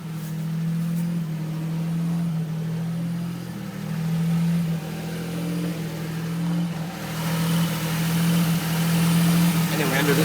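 A Daihatsu Hijet mini truck's 660cc three-cylinder engine idles steadily and loudly close by on a warm day, with a deep, constant hum and a slight rise in roar toward the end.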